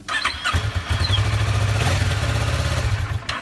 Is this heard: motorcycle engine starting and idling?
yes